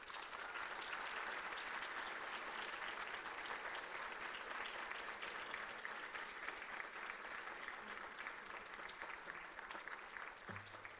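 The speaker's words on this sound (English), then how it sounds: "So I want to give them a huge round of applause for staying the course." Sustained audience applause at a teacher cohort closing ceremony, honoring the mentors; steady broadband clapping fills the whole stretch at a fairly distant, moderate level.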